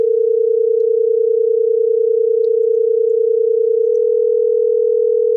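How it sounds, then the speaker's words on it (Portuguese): Two pure sine tones at slightly separated pitches play together as one loud, steady hum with a faint rough beating, held unbroken for several seconds with nothing else audible. "Eu vou agora distanciar mais os dois sons."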